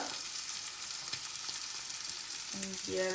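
Fennel seeds and a couple of cloves fry in hot oil with cashews as the base for chicken sambar, giving a steady close sizzle and crackle throughout, with a few light utensil taps near the end.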